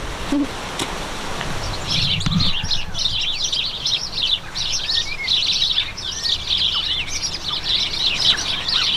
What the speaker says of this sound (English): So many little birds in this tiny patch of bush.